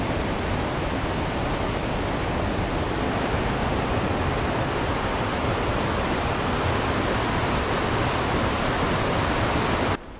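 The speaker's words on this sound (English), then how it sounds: "I don't know if this creek would have been even fordable up there, because it looks like it's a waterfall." Fordyce Creek in Tahoe National Forest rushes like a waterfall, making a steady, full roar of churning water that stays even and close throughout, with no voices.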